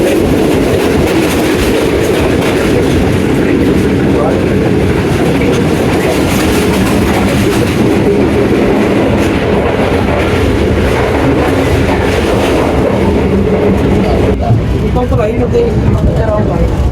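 Islamabad Express railcar train running fast along a loop line, a loud continuous rumble with rail clatter from on board throughout, with talk over it.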